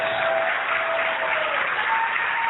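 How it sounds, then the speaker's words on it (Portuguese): A church congregation gives a steady, continuous round of applause, a dense wash of clapping hands at even loudness with a faint sustained tone underneath. "Vamos dar uma grande salva de palmas para o Senhor Jesus"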